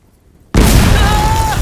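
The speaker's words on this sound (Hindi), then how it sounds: "किसी ने भी ध्यान दिया कि यहाँ इतना बड़ा बम फटा?" A large bomb goes off in a film scene: after half a second of near silence, a sudden loud blast erupts and rolls on as a sustained roar with ringing debris and whistling tones until the end.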